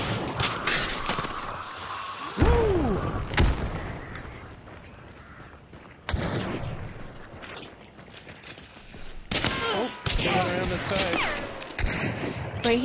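Bomb blasts and bursts of gunfire in a swamp-set video game, with booming impacts and crackling shots coming in clusters. Players talk over the action throughout.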